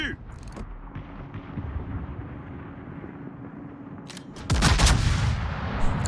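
In a World of Warships battle, a naval gun salvo booms loudly and abruptly after several seconds of low engine and ambient rumble, its roar sustaining briefly before a second heavy report.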